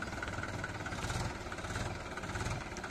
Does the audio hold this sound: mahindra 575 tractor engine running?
yes